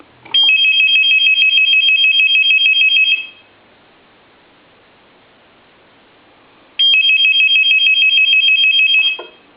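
An old telephone under repair checkout rings in two bursts, each about three seconds of loud, rapid electronic trilling, separated by a few seconds of quiet hiss, close and clear.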